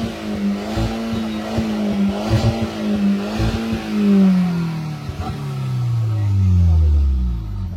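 A Skoda Octavia vRS Mk1 with its end can deleted revs hard nearby, a throaty exhaust that climbs and drops in pitch through several blips before it falls away to a low idle.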